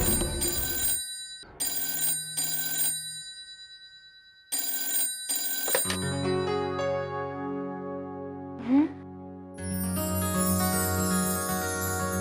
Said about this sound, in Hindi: एक ही रिंग में फोन उठा लिया